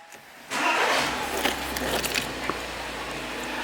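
An Audi A1 hatchback engine starting, a sharp crank that catches after half a second and settles into a steady low idle close by.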